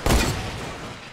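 A Fortnite squad's gunfire lands as a sharp loud shot that fades into a rumbling echo, brief and alone.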